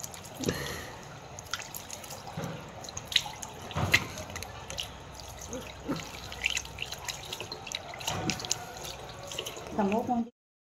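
Water runs and drips from an outdoor tap at a spring resort, splashing unevenly with scattered close drips over roughly ten seconds while voices talk nearby.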